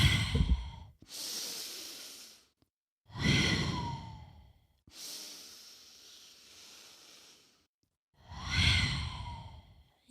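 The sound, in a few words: deep breathing during prenatal yoga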